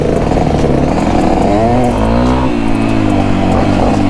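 A Yamaha XT250 motorcycle revs loudly on an off-road trail, its engine climbing in pitch through the gears with a continuous close, rough drone.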